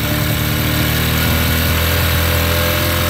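A motorcycle engine runs fast and loud while its carburetor screw is adjusted, a steady close, buzzing mechanical drone with constant vibration and no pauses.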